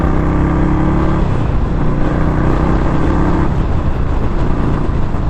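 A 2021 Indian Scout Bobber motorcycle engine running loud and close, a steady rumbling drone that rises slightly as it pulls, no voices.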